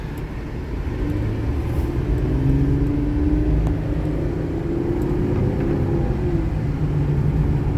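A 2002 Buick Regal with 163,000 miles idles steadily, a smooth low engine rumble with a faint rising whine, starting slightly quieter and then holding an even level throughout.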